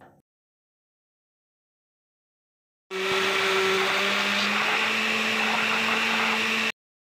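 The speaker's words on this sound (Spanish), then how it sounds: "Agregamos tomates, la cebolla y el ajo a la licuadora" A blender whirs loudly and steadily for about four seconds, a high motor whine over chopping, churning tomatoes, onion and garlic with a little water, then cuts off abruptly.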